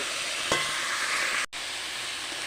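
Winter vegetables for khichuri frying lightly in ghee, a steady close sizzle with a brief stirring knock, cut by a short break in the middle.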